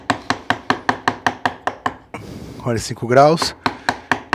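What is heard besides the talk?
chisel tapped lightly to carve wood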